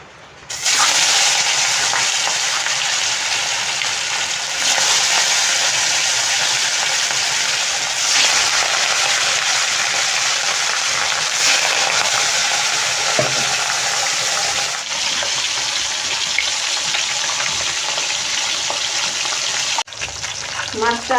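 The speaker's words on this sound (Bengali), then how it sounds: "আমি এখন মাছটা একটু ভেজে নেব" Pieces of Katla fish frying in hot white oil, a continuous close sizzle and crackle with faint shifts and occasional light knocks, steady throughout and without talk.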